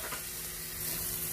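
Steady sizzling of bacon frying in a hot pan, a continuous crackling hiss close by with no voices.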